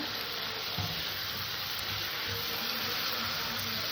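Poppy seed paste fries with potatoes in a pan over low heat, giving a steady, soft sizzle with faint stirring scrapes throughout.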